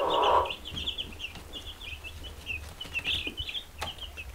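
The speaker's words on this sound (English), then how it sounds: "Yes, we got me birds." Meat chickens clucking and chirping close by in a farm setting, with a burst of louder noise at the start and then continuous overlapping bird calls.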